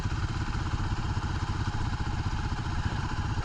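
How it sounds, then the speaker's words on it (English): An ATV engine runs at an off-road vehicle park, a steady mid-pitched motor drone with rattly clatter, fairly close and holding level throughout, with no talk. "Hey, look, an ATV."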